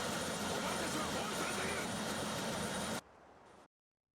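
Helicopter noise from the Disaster Report 4 video game, a continuous loud engine roar that cuts off abruptly near the end, followed by a brief quieter tail and then silence.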